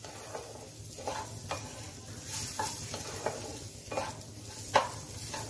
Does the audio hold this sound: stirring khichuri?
yes